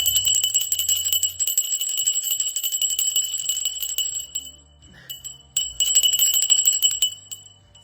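A ritual bell rings in quick, repeated jingling strokes, bright and close, stopping briefly midway before resuming, with soft low handling noises underneath.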